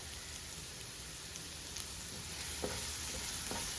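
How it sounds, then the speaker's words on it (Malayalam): Chopped curry leaves sautéing in a pan for a Kerala-style stuffed pathiri filling give a steady, fairly quiet sizzle with a few soft stirring taps toward the end, and no voices. "ചെറുതായി അരിഞ്ഞു വെച്ചിരിക്കുന്ന വേപ്പില അത് നമുക്ക് ചേർത്ത് കൊടുക്കാം"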